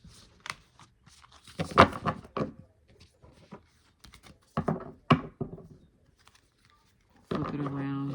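A 52-card oracle deck riffles and snaps in a few quick bursts of crisp flutter, close up, with short pauses between shuffles.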